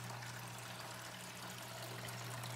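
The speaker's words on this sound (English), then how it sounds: "I just cleaned my fountain last night, and now look at that. Water is so clean." A small indoor water fountain trickles quietly among house plants, a faint, steady stream of water over a low constant pump hum, with no talking.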